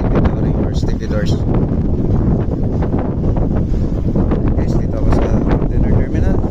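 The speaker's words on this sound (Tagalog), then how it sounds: "malakas yung hangin" Strong wind buffets the microphone at a container ship port where stevedores work, a loud continuous rumbling roar with gusty flutter throughout.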